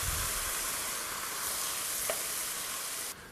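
Risotto rice with saffron and white wine is stirred in a hot pan, giving a steady, close sizzle and soft scraping throughout, with a brief clink near the end.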